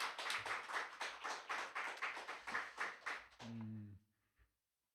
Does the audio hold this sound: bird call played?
no